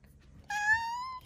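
A curious pet cat gives a single clear, drawn-out meow, close and loud, after a moment of quiet room noise.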